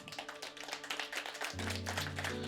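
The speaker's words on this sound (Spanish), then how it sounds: "¿Por qué no le damos un aplauso?" A church congregation applauds with steady, dense clapping close by, and sustained music tones swell in beneath it partway through.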